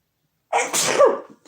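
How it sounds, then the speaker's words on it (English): A single close, sharp sneeze breaks a short silence, with a quick intake and a loud burst. "Man, I'm gonna sneeze."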